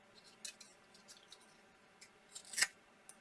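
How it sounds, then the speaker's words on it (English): Paper strip torn by hand for a scrapbook page border, giving a few short, quiet ripping bursts with one sharper, louder tear near the end, close up with no talking. "Rip that in the other direction."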